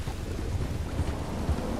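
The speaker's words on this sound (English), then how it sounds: "Wow, the storms are brewing." Thunderstorm with steady rain in Red Dead Redemption 2, a dense continuous wash of rainfall with low rumbling thunder swells throughout, no talking.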